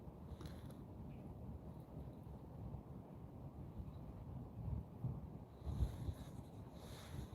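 Faint wind rumbles across the microphone out on the ice while ice fishing, a low, steady wash with a few slightly stronger gusts near the end.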